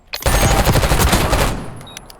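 Rapid automatic gunfire from a bomb-defusal video game, a dense burst of loud shots lasting over a second and then trailing off.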